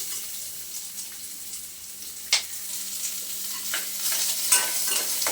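Onion sautéing in a little oil in a pan gives a continuous close frying hiss, with occasional scrapes and clicks as it is stirred.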